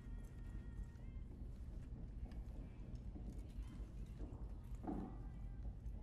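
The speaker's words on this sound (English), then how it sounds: "I hear footsteps all around me." Faint, rhythmic footsteps in the tactical shooter game Rainbow Six patter steadily around the player against low background game noise.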